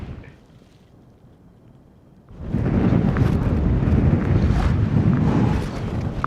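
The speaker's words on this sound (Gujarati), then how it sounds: "અતિશય પવન આવે છે, અતિશય." After a quiet start, strong winter wind at Abraham Lake suddenly roars into the microphone, a loud, buffeting rumble that stays heavy and continuous to the end, with snow blowing past fast.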